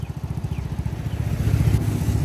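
A motorcycle with a 53 mm bore engine idles nearby, its rapid even chugging putter growing slightly louder and rougher toward the end, with no talking over it.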